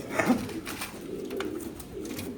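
Pigeons cooing softly in a loft, a low murmuring coo close by over a steady background hum.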